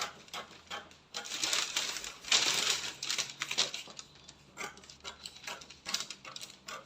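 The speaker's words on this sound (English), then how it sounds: "So now I'm going to cut what I have on my slash and spread pattern right" Scissors cut through a paper slash-and-spread pattern for a flared A-line skirt, giving irregular crisp snips and rustling paper close to the microphone, with no talk during the cutting.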